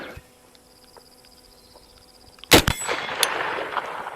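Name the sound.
early Winchester semi-auto rifle shot hitting steel target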